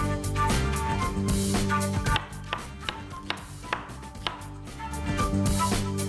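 A knife chops two onions coarsely on a board, with a run of sharp taps spaced irregularly. A steady tonal hum sits under them.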